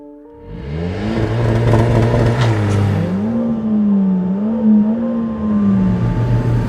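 A Mercedes-AMG A45S hatchback being driven, its engine note rising and falling with gear changes as it accelerates, loud and close from inside the cabin, with no talking.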